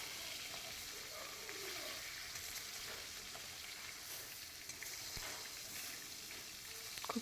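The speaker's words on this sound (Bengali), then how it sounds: "তো মাছটা ভালোভাবে এপিট ওপিট ভেজে নিব।" A snakehead fish is fried on both sides in a pan, producing a soft, even sizzle that hisses quietly throughout, with a few faint clicks near the end.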